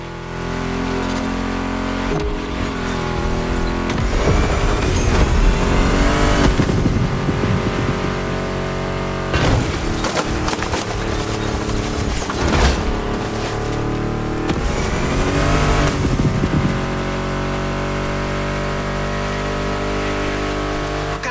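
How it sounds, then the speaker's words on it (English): A Ford Mustang GT engine revs repeatedly in the video game The Crew Motorfest, rising and falling in loud bursts with gear shifts, close and continuous throughout. "Meshes well with the sound of the engines, you feel me?"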